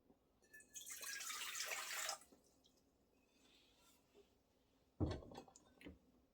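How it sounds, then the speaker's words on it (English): Warm water pours into a bowl in a short hissing stream, followed by a pause and a second brief splash, close and clear. "Put my water in."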